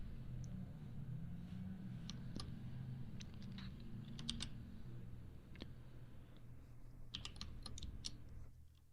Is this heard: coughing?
no